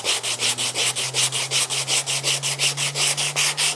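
A steady back-and-forth sanding of wood with 100 grit sandpaper, close and loud, about five brisk rasping strokes per second in an even rhythm with no voices.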